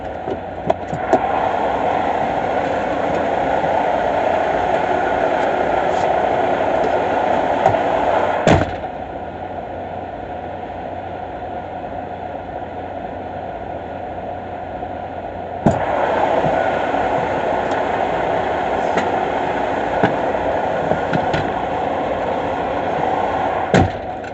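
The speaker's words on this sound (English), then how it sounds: "I am going to start the engine first to build pressure back to capacity" A truck's engine runs after starting to build air brake pressure, a loud steady drone lasting about 24 seconds that abruptly drops in level partway through and then jumps back up, with no talk.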